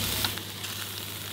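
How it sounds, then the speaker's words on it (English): Salt, chilies and garlic stir-frying in hot oil in a Thai mountain kitchen in Chiang Rai, a steady close sizzle with faint crackles and no talking. "Stir fry it up with some salt, with some chilies, with some garlic. Sizzle that down in oil."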